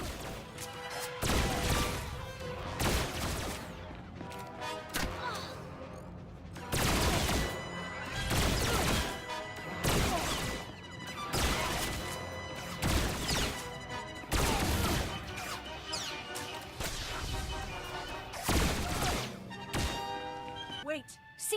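Blaster gunfire in the Star Wars: The Old Republic video game, with repeated sharp bursts and crashing impacts firing almost continuously through a loud battle, and voices heard amid the shooting.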